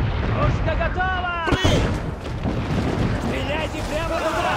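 Cannon fire booms in the video game Assassin's Creed 4 Black Flag. A loud blast is set against continuous rumbling battle noise, with speech and other game sounds mixed in throughout.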